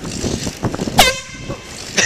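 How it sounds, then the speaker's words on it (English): An air horn is blasted inside a gas station store, one loud blaring honk with a sharp start that cuts through chatter and then fades, followed by a short second burst at the end. "We're gonna blow the air horn at the store."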